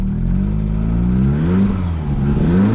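A Mk2 Vauxhall Cavalier's C20LET engine, with a faulty alternator, revs briefly and close up. The hum rises and falls in pitch in one short, loud burst.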